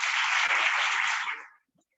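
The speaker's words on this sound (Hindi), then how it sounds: "और जोरदार तालियां सिस्टर सिम्पसन के लिए भी" A congregation in a church gives hearty applause, a dense, loud burst of clapping that holds steady for about a second and a half, then stops abruptly into silence.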